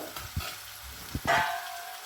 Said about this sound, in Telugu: ఆయిల్లో కొద్దిసేపు మగ్గనిద్దాం